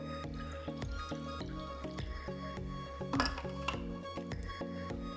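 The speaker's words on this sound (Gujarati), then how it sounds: "એની અંદર આપણે એકદમ ઠંડુ પાણી નાખીશું" Cold water pours into a glass holding a few spoonfuls of homemade sherbet powder, a steady trickling fill with small drips and a light clink of glass, close and without voices.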